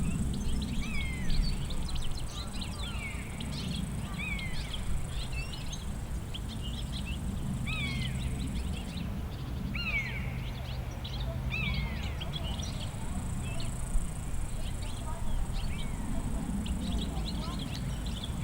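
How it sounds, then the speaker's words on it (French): Birds chirp and trill repeatedly over a soft outdoor background hum, fairly distant, with calls scattered steadily throughout. "on peut écouter le chant des oiseaux"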